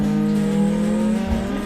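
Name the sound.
car drifting up through the gears at Ebisu in Assetto Corsa video game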